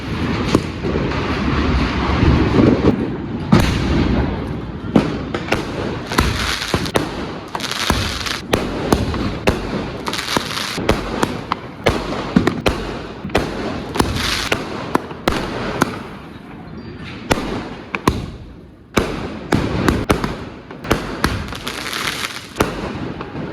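A 15-shot Diwali firework cake goes off in a loud, rapid string of bangs and crackles, the bursts running continuously with short gaps and no talk over them.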